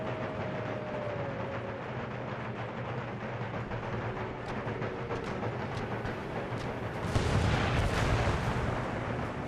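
An artillery piece fires flaming shot on an Empire: Total War battlefield, a heavy booming blast landing late after a steady rumbling battle ambience with distant crackles of fire.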